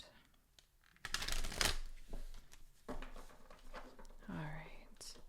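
Deck of cards shuffled by hand, a short riffling burst early on, then softer handling noises and a faint whispering voice nearby.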